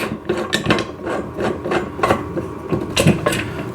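Hand-twisting a fitting onto a Garvee chest press during assembly gives close, uneven scraping and rubbing bursts, with a few sharper metallic grinds over steady background noise.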